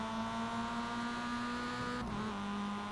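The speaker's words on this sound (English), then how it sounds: "I kind of can hear his car, so it's super close." A Mazda MX-5 Cup race car engine whines steadily close behind on Okayama circuit, with a constant high-revving drone and a brief pitch dip near the end.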